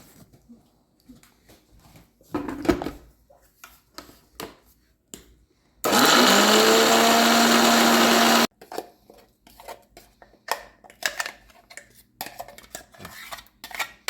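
A kitchen blender grinds dry coconut, chickpeas, red chillies, salt and water into chutney. It gives one loud, steady burst of about two and a half seconds mid-clip, set between quieter clinks and handling noises.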